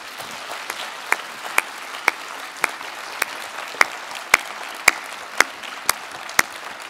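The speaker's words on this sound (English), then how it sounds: "let's give our panel a round of applause" Applause from a nurse researcher hall of fame audience in Cape Town, South Africa, honouring a panel: a steady clapping wash runs the full length, with a few sharp, louder claps standing out near the front.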